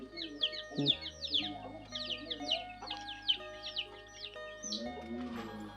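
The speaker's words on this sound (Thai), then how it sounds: "ไก่เริ่มเข้าคอกแล้วทุกคน ไก่เริ่มเข้าคอกแล้วเพราะว่า5 โมง 6 โมงมันเข้าคอกนะ" Chickens clucking and calling in a rural hillside yard as they head into their coop for the evening, a busy cluster of repeated calls close by over a low background hum.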